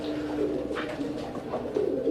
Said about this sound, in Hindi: यहाँ सिर्फ कबूतर हैं और बहुत सारे कबूतर हैं